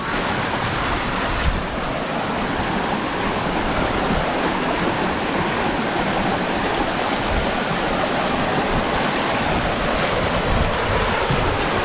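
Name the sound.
creek water flowing after Hurricane Floyd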